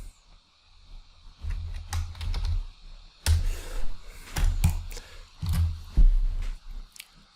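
Bursts of keyboard typing, with irregular clusters of clicky keystrokes separated by short pauses, close and fairly loud with no talking.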